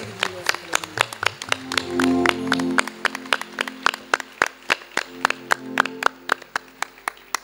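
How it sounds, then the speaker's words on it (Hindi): Rhythmic clapping from an audience at a Christian bhajan gathering, loud sharp claps in a steady beat running throughout, with a sustained sung or spoken voice underneath for the first few seconds. "तालियां जोरदार तालियां बजावे"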